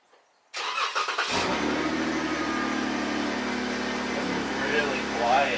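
A Jeep JK engine with a new muffler cranks briefly and catches, then settles into a smooth, fairly quiet running hum close by.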